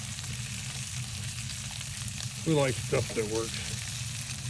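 Bacon frying on a camp stove mounted on an ATV, setting outdoors in the morning, cut with an old Chicago Cutlery knife; a steady close crackling sizzle runs throughout while someone speaks briefly near the end.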